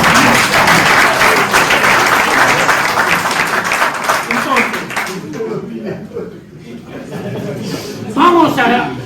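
A lecture-hall audience at a class on Peronist philosophy and doctrine applauds loudly with dense, steady clapping for several seconds. The clapping fades out, leaving murmurs and a speaking voice.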